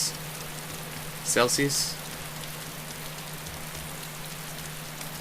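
Steady rain pours in the video game DayZ, a continuous soft hiss running throughout, with someone talking briefly over it.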